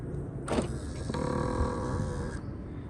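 A Mercedes car locks from its key fob, a clunk followed by a sustained whirring motor hum of about two seconds, heard close by in a quiet garage-like space.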